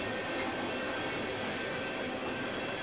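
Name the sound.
rear of a manifest freight train passing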